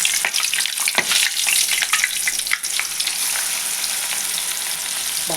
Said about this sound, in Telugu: బాగా మంచి గోల్డెన్ కలరు వచ్చే వరకు చేపని బాగా వేయించుకోండి.